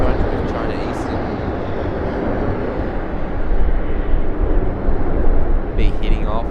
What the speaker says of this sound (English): A330-200 with China Eastern